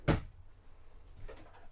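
A storage drawer in the kitchen of a 2026 Jayco North Point 365RKTS fifth-wheel RV slides shut with a sharp, close thump, followed by a softer second knock about a second later.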